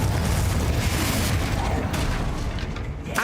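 A Confringo fire spell bursts during combat in the Hogwarts Legacy video game, heavy booming rumble and crackling impacts filling the scene continuously, with voices partly heard underneath.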